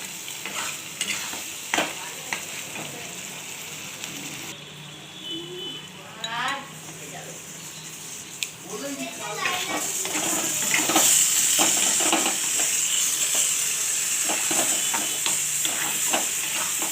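Ginger, cumin and chili paste sautéed in fish oil for a spicy fish-oil chorchori, a continuous close sizzle with repeated scraping stirs and metal clinks, growing louder and hissier in the second half; a voice murmurs faintly in the background.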